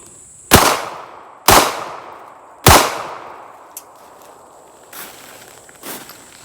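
Three loud, sharp gunshots from a PSA Rock 5.7 pistol fired outdoors about a second apart, each with a ringing decay, followed by a few faint distant knocks.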